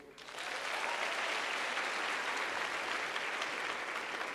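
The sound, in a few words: audience applause for a speaker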